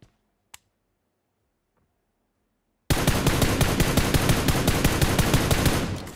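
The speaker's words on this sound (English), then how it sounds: "Oh, yeah, gunshots." Rapid automatic gunfire in a first-person shooter set in school apartments bursts in after near silence and a lone click, a dense, loud, evenly spaced volley running to the end.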